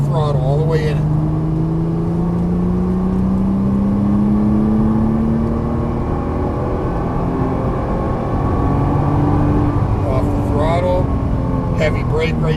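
A Nissan GT-R engine climbs in pitch as it accelerates on a race track, a sustained rising drone with a wind-like whir, while someone talks over it.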